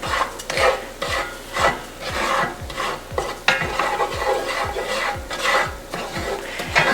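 A wooden spoon scrapes steadily around a pan of gravy roux, regular rhythmic strokes about twice a second over a soft sizzle, close and fairly loud with no talking.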